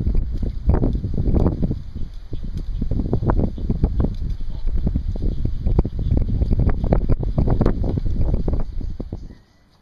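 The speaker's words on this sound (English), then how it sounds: "This wind suddenly just came up really strong." Strong wind buffeting a microphone outdoors on a bass-fishing trip, loud gusty rumbling in irregular bursts for about nine seconds before it suddenly drops away.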